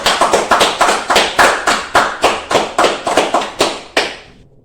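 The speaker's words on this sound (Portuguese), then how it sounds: "vamos dar uma salva de palmas para o nosso mestre?" About fifteen sharp, evenly spaced claps ring out loud and close, then fade at the end, a slow rhythmic clapping with no voices.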